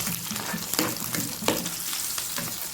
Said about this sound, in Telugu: పచ్చిమిర్చి ఇలా ఫ్రై చేసుకోవాలి.